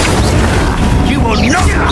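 In Hogwarts Legacy, an Incendio fire spell erupts as a loud, dense boom that fills the short moment, blended with battle noise and a voice in the background.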